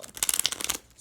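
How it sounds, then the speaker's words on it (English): Thick, normal playing-card-sized Universal Waite tarot cards being shuffled in a tin deck, a close, crisp riffle of rapid papery flicks and slaps lasting about a second, with no talking. "These ones are really hard to shuffle."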